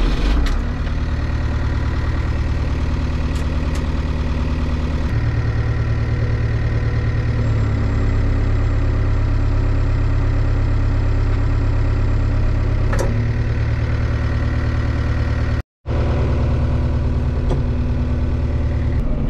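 A diesel tractor engine runs steadily while hauling a raised disc harrow, a loud, continuous low drone with a brief cut-out near the end.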